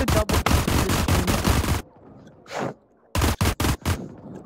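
Rapid bursts of gunfire in the VR shooter Skyfront VR, a loud close volley, a short pause with a muffled thump, then several more sharp shots in quick succession.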